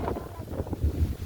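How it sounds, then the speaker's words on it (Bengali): A breeze blows outdoors in a rural setting, producing soft, gusty buffeting that rises and falls over barely a second, close to the microphone with no clear speech. "খুব সুন্দর বাতাস না?"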